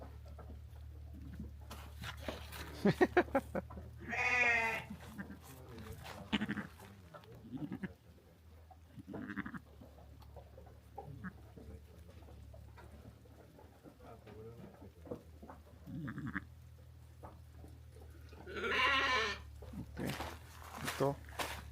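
Dumba sheep bleat in a few short calls at farm or livestock quarters, with one burst near the start and another toward the end, while people talk over and between them at moderate distance.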